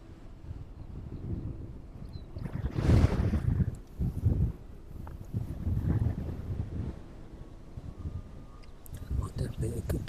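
Wind gusting across a microphone outdoors at East Midlands Airport on a cold evening, rumbling and buffeting in uneven surges over roughly ten seconds with faint background noise.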